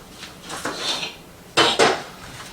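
Lid put on a cooking pot on the stove, soft metallic scraping as it is fitted, then two sharp, loud clanks close together as it settles in place.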